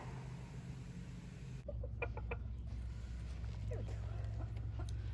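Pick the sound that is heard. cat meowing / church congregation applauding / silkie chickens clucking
silkie chickens clucking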